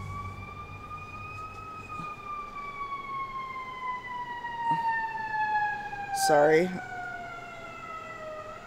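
Emergency vehicle siren wailing outside, a long steady tone slowly falling in pitch over several seconds, heard at a moderate distance behind a short spoken word and a brief noisy burst.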